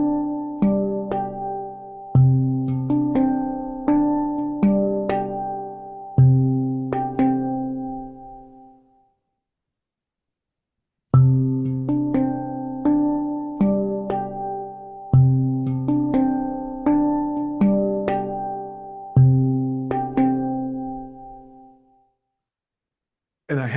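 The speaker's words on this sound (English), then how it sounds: "here's the sound of a handpan in this cymoscope" A handpan plays into a cymoscope, ringing out two phrases of struck, resonant metallic tones that sustain and overlap. A pause of silence separates the phrases, and no one talks.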